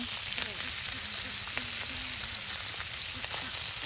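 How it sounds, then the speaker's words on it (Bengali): Fish frying in hot oil with turmeric, onion and garlic added, a loud, continuous, close sizzle with faint stirring ticks throughout. "মাছটা একদম তেলের সাথে ভেজে নেওয়া হচ্ছে পেঁয়াজ রসুনগুলো এখন একসাথে দিয়ে দেওয়া হচ্ছে"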